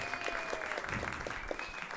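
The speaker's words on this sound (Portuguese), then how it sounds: "Palmas para as minhas estilistas!" Audience clapping at a live comedy show, a steady, fairly quiet round of applause from a crowd with a few sharper individual claps standing out and a faint tone underneath.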